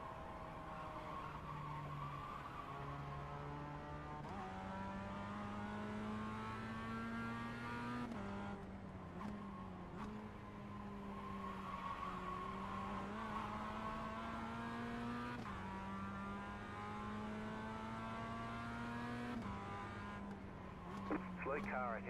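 A Mazda MX-5 race car engine in iRacing droning steadily close up, its pitch rising and dropping through gear shifts and corners over a long run, with faint tire noise.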